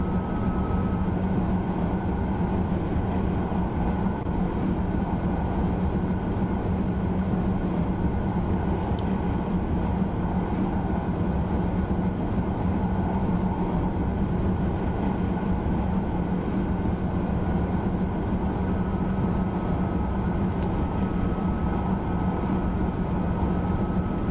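A TGV Duplex high-speed train in Train Simulator 2016 on the Marseille to Avignon line, rolling downhill under dynamic braking: a steady, unbroken rumble and hum that stays loud throughout, with no voices.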